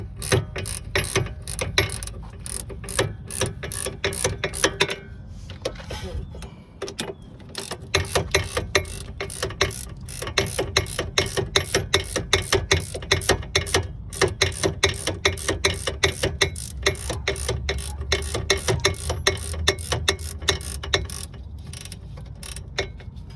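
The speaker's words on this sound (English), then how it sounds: "what I'm gonna do, I'm gonna simply put my wrench on that, like so." A ratchet wrench turns a front strut nut on a Pontiac G6 GT, giving a steady run of close, loud clicks with a short pause near the middle.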